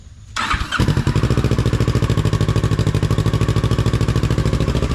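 A motorcycle engine fitted with a new exhaust and silencer starts up, then idles loudly and steadily with a rapid, throaty exhaust pulse.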